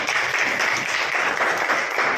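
Applause from a classroom group during a general knowledge quiz, a dense steady wash of many hands clapping at close range, continuous and fairly loud.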